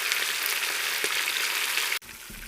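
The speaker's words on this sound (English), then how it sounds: "We're going to get these seared on the other side" Meat sears in a Crux pressure cooker with a loud, steady hiss and crackle of frying fat for about two seconds before cutting off abruptly.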